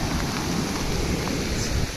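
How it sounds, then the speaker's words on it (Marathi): Floodwater rushing under heavy pressure during torrential Konkan monsoon rain in Mandangad, a dense, steady roar that fills the clip, with no voices. "हे बघा किती पाण्याचं प्रेशर बघा किती आहे."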